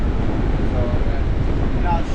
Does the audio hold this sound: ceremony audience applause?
no